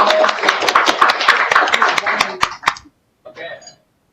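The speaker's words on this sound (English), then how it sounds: "can you join me to give big applause to close this section?" Applause from a webinar audience closing a panel session, dense clapping for about three seconds that stops abruptly, followed by a brief soft voice.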